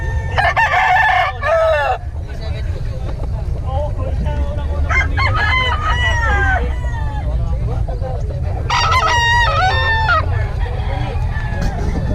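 Several roosters crow loudly and repeatedly, calls overlapping near and farther off, over a steady background murmur of voices and clucking.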